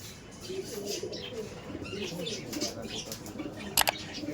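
Pair of Giribaj pigeons giving soft low coos with a brief burst of wing flapping, close by under a quiet background.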